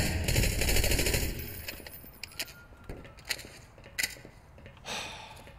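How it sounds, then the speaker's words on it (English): Bursts of automatic gunfire in the Half-Life mod Hunt Down The Freeman, a dense rattling volley at first, then sparser separate shots and short bursts, with no talking. "Larry, please continue shooting them"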